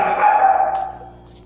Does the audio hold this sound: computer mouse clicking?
no